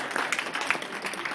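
Brief, faint audience clapping for a jazz band at a comedy lounge, lasting barely more than a second and sounding distant and thin.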